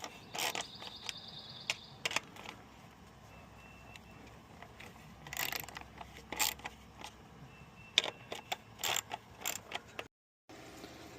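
Bolts on the fuel pump of a 2018 CR450R dirt bike are tightened one side at a time, giving close, intermittent metallic ratchet clicks and creaks in short bursts with brief pauses.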